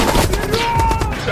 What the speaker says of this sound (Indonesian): baku tembak pun terjadi di dalam ruangan